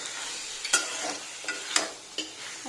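Potato and pointed gourd pieces are stirred in a sizzling pan, a spoon scraping in several distinct strokes over a steady frying hiss, close and moderately loud.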